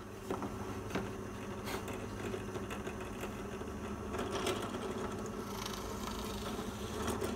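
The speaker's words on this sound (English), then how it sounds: "So I drilled and countersunk some screw holes." A drill bores and countersinks screw holes in wooden rails for an Adirondack foot stool, giving a steady mid-volume whirring buzz with small clicks and bumps throughout.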